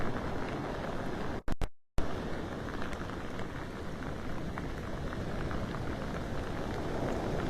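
Steady heavy rain pours down on a beach during Tropical Storm Debby at high tide, a dense continuous hiss that is broken by a brief drop-out, with no talking.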